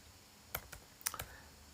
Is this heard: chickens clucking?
no